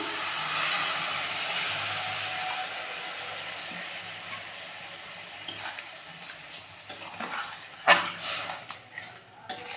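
Milk poured into melted sugar in a pan for carrot halwa: a broad, close sizzling hiss that gradually fades, followed by a few sharp scrapes and clinks near the end.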